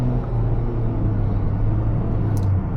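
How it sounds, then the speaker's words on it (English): The engine of a 2025 Honda Brio RS hatchback accelerates from inside the cabin, a steady, close, low rumbling drone with no talk over it. "so you can hear the engine."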